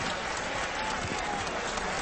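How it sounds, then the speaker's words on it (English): Crowd applause in a boxing video game, Mike Tyson against Michael Johnson, a steady, dense clapping wash that holds at an even level throughout with no voices clearly on top. "have a nice round of applause"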